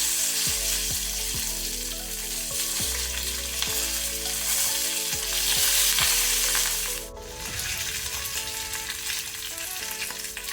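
A loud, continuous sizzle of curry leaves frying in hot oil with urad dal, with crackling pops throughout and a brief surge near the end.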